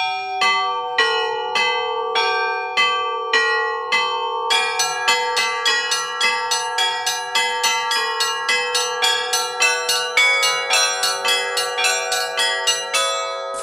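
Church bells ring out a melody from a bell tower in Arkhangelsk, starting with slow, widely spaced strikes and then quickening into a dense, rhythmic peal of overlapping tones, loud and clear with no voices over it.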